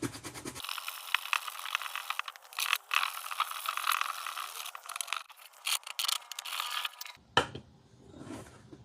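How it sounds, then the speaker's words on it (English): Coarse 80-grit sandpaper rubs over a part from a 1962 Evinrude outboard motor, a steady close scratching in long strokes with brief pauses, then a few short scrapes. "It says specifically to sand with 80 grit sandpaper"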